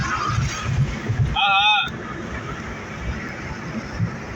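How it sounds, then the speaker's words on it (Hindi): Steady buffeting wind roars through open car windows over road rumble. A brief high tonal whine cuts in near the start, and talking is partly buried beneath. "आपको शायद आवाज़ क्लियर ना आ रही हो क्योंकि मैंने शीशे भी खोले हुए हैं गाड़ी के।"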